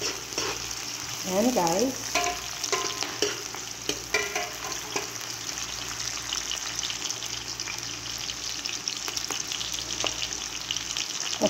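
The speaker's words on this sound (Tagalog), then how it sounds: "Medyo pustahin natin yung sibuyas para mabango ang ating luto." Onions sauté for a pochero in a pan with a continuous close frying sizzle, a few stirring scrapes early on, and a brief spoken remark near the start.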